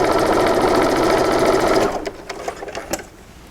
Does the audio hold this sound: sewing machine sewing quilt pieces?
yes